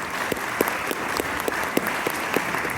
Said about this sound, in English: I'll give them a little round of applause as they make the work